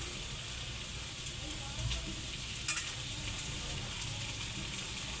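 Vegetables for Filipino kare-kare fry in a little oil in a pan, giving a steady, close broadband sizzle throughout with a couple of brief clatters from stirring.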